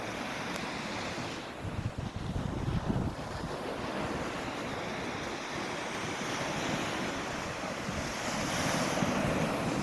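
Black Sea surf washing onto Golden Sands beach in Bulgaria, a steady broadband roar of waves with wind buffeting the microphone, continuous and fairly loud with no voices.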